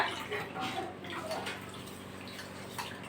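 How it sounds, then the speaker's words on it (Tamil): Water splashes and trickles as something is rinsed, with soft intermittent sloshing and drips, fairly close and gentle. "இப்போ இதை நல்லா கழுவிட்டு போட்டுடலாம்."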